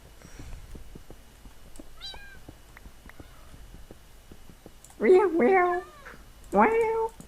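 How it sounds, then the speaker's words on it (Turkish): Cats meow in the Minecraft video game, two short, loud mewing calls near the end after a stretch of quiet, faint clicks and a tiny chirp. "Onlar miyavlayalı, miyavlayalı 9 saat oldu."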